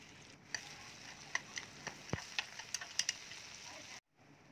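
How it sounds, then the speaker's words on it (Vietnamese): Mushrooms frying with shallots and garlic in a pan for a vegetarian mushroom hotpot, a faint close sizzle with scattered ticks and pops from stirring, ending abruptly in silence. "Sau đó mình sẽ cho tất cả các loại nấm vào, mình cháy sơ ra cho nó thơm"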